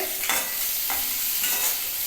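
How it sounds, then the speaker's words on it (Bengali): Sliced onions fry with salt in a pan of oil alongside bay leaf and five-spice, giving a steady close sizzle broken by about three scraping stirs of a spatula, with no voices. "পেঁয়াজটা নরম হয়ে লাল হয়ে ভেজে ভাজা হয়ে যাবে"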